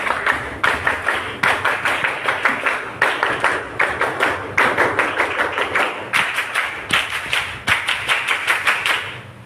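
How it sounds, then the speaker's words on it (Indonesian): Indonesian scout troop at a school doing tepuk pramuka, a group clapping in a crisp rhythmic pattern of quick bursts with short pauses, repeated in three rounds without talk. "3 kali tepuk pramuka."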